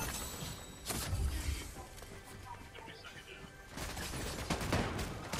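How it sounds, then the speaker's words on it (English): Gunfire in the Fortnite video game, a busy fusillade of shots in two bursts with crashes and background game noise throughout. "Oh, I hear a lot of gunfire, and I don't think that's the AI."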